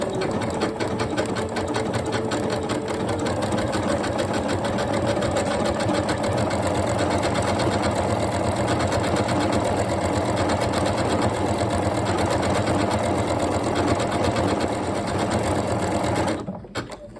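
A Janome Horizon Memory Craft 9480 QC Professional sewing machine runs continuously at steady speed, stitching a square-within-a-square pattern with a close, even mechanical hum and rapid needle ticking that stops near the end.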